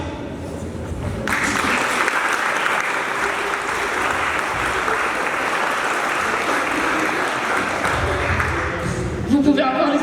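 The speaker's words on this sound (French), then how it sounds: "Vous pouvez encore les applaudir." Audience applause for project presenters at a presentation event, a dense sustained wash of many hands clapping for about eight seconds, rising abruptly after a brief voice and fading out with speech returning at the end.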